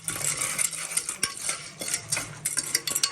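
A spoon stirring turmeric and salt masala in a pressure cooker, with quick clinking and scraping strokes of metal on metal close by, busy and irregular, with no talk.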